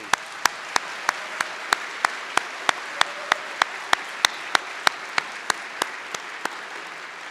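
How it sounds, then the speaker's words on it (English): Applause at a university graduate hooding commencement, a dense, even wash of clapping from a large audience with regular louder claps close by, sustained throughout. "Please join me in a round of applause for the leadership of Central Washington University."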